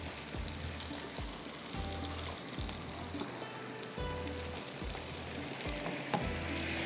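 Tomato gravy fries in a pan for spicy rice, with a dense, steady sizzle throughout and soft rhythmic scrapes and knocks of stirring, close and continuous with no talk.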